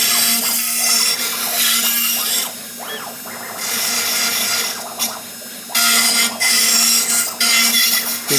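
A CNC router (Power Route Max) roughs out an engraving on a 2x4 wood board cut to 10 inches and clamped in a vise. A loud, steady grinding whine rides over a constant hum, surging and easing as the bit moves. No one speaks.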